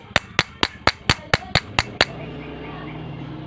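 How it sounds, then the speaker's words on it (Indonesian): A hammer taps a part into place while a Yamaha motorcycle carburetor is being fitted, nine sharp, evenly spaced metallic blows close by, then quiet. "Nah, kita palu Mas Bro ya."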